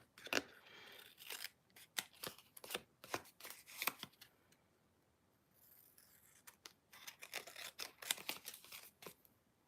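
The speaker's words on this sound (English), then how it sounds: "I think it's so satisfying to trim off paper like this." Close, quiet scissor snips trim paper for a star quilt card, a rapid run of crisp cuts pausing briefly midway before another quick burst.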